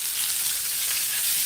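Cherry tomatoes dropping into a hot pan of oil for palm nut soup, a loud, dense, continuous sizzle close up with no voices.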